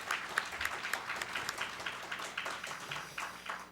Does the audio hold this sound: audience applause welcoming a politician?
yes